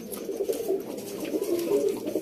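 Flying pigeons coo softly and repeatedly nearby, low murmuring calls rolling in short phrases over a quiet outdoor hum.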